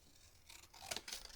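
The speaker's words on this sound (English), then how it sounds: "I'm cutting into it so it's a bit narrower, like so." Large scissors snip through paper being trimmed for a junk journal cover, a couple of quick, faint close-up cuts.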